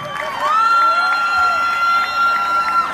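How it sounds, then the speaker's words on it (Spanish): A lively crowd at a dance contest between Mexican and Colombian women cheers and claps, with a loud, sustained high whoop or whistle riding over the applause for the full few seconds. "¡Bien! ¡Un aplauso!"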